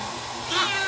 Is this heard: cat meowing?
yes